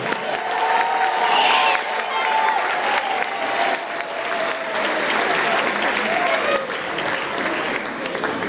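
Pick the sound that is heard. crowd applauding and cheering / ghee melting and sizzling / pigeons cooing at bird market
crowd applauding and cheering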